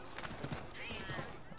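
A horse gallops with steady rapid hoofbeats in Assassin's Creed III, with a brief whinny partway through, as someone talks over the game sounds.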